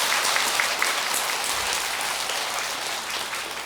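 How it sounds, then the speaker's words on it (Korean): Audience at a Buddhist new-year Gwaneum prayer service breaking into dense, steady applause, a wash of many hands clapping continuously and close throughout, fading slightly toward the end. "우리 박수 한번 보내주세요"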